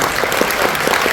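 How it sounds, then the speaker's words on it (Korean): Audience applause at a 40th-anniversary ceremony in Korea as an honoree is called forward, a steady wash of many hands clapping throughout the short stretch with no voices over it. "여러분 박수 주시겠습니다"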